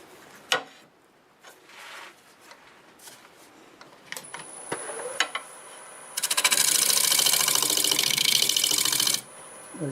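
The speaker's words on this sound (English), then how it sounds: "I'm going to use my negative rake scraper for doing that." Cherry bowl turning on a wood lathe under a negative rake scraper: scattered scraping and knocks give way to a loud, steady, buzzing cut lasting about three seconds, close by.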